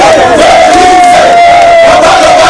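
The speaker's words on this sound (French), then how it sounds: "une foule de manifestants en colère les a accueillis, scandant des chants d'interpellation à l'égard des autorités du pays" An angry crowd of protesters chanting in Lualaba, a loud, dense roar of many voices with one sustained shouted tone running through, steady and close throughout.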